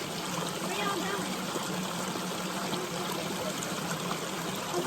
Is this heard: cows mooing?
no